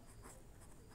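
Pen or pencil writing on paper during a math lesson, a faint soft scratching with small strokes over a quiet background hiss.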